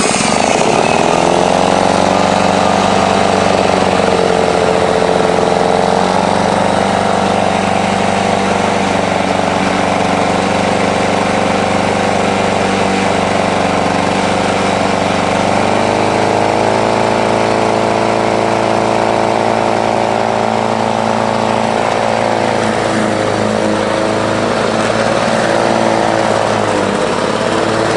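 A Lawn-Boy lawn mower engine runs loud and steady for the whole stretch, a rough, buzzing two-stroke drone that dips and recovers in speed midway, with no talking over it.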